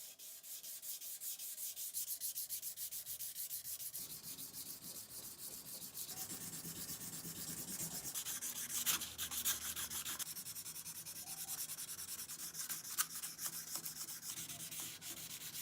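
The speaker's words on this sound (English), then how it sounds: "He finishes with fine grit hand sanding, pulling in a single direction to align the scratch pattern" Fine-grit abrasive paper rubbed by hand along a restored steel axe head in single-direction strokes, a steady faint scratchy rasp heard close and continuous, with no voices.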